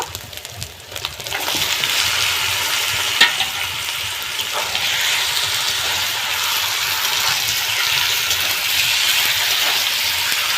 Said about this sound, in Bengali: মশলাটাকে আমি খুব ভালো করে কষিয়ে নেব আমার কষানো হয়ে গেছে মশলা থেকে তেল ছেড়ে দিয়েছে